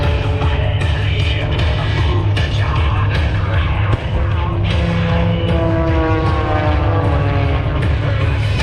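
Two propeller stunt planes fly aerobatics at the Sun n' Fun air show, their engines a loud, continuous droning roar that swells and shifts in pitch as they climb, turn and dive overhead.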